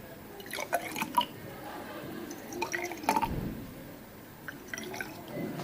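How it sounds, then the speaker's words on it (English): Starch solution is poured into test tubes, giving soft wet drips and trickles with small glassy taps, close and fairly quiet, in short bursts separated by pauses. "We'll put some starch into each test tube."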